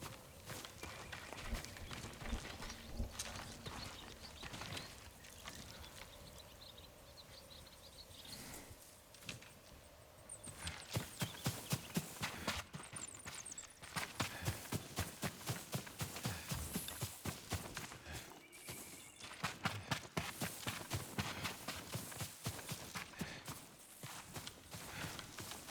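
Steady clip-clop of a horse's hooves at a quick trot in Ghost of Tsushima, close and continuous over a rushing backdrop, with a few brief louder thumps midway.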